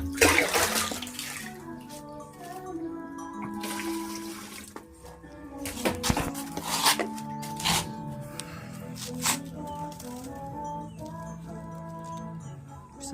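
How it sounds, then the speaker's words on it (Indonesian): Water pouring from a tap into the tank of an electric backpack sprayer, a continuous splashing gush that swells and fades, with a few clunks of handling. "Saya isi air dulu."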